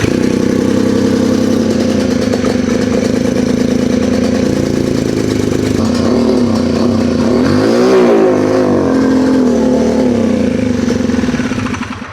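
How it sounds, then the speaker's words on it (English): A Polaris RZR side-by-side that had sat for five years, its engine running loud and close with a knocking idle, rising and falling revs, and a pitch sweep near the end before it dies away, with no talk. "I'm just going to try to start it up again now and see if she'll restart."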